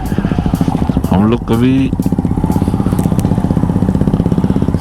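A Hero Glamour 125cc motorcycle climbing the mountain road toward Darjeeling and Kurseong runs with a rapid, even engine putter close by, while someone speaks briefly over it.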